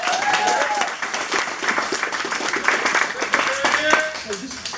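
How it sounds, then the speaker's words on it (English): At a celebration of Fela Kuti's life and birthday, a crowd gives lively applause with distinct claps, and cheers and voices ring out over the clapping. "Give them a round of applause as well."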